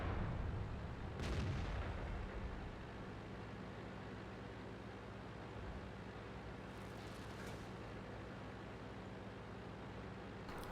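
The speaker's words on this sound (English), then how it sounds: "Try not to get shot by artillery." Artillery fire in a video game: a heavy boom opens the clip around one second, then a faint, steady noise bed follows, with a couple of softer distant blasts later on.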